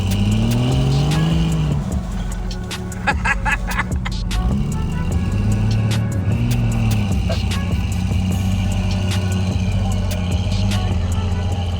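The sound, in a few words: off-road vehicle engine revving and shifting gears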